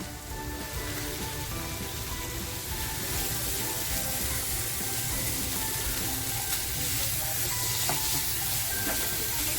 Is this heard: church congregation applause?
no